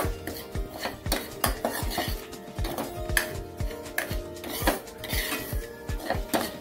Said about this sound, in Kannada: ಫ್ರೈ ಮಾಡಿದ ತುಪ್ಪದಲ್ಲಿ ರವೆಯನ್ನು ಫ್ರೈ ಮಾಡಿ ಈಗ